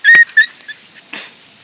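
A dog gives a couple of thin, high-pitched whimpers, brief and close, followed by a faint soft whine.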